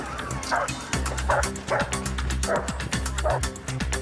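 Police dog unit barking during a manhunt through residential gardens, a loud, close run of repeated barks and yips with whimpering in a steady rhythm, going on for about four seconds over a noisy background.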